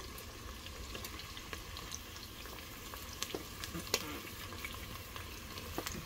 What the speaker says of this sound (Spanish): ya vamos a agregar aquí el chile para que se nos vaya guisando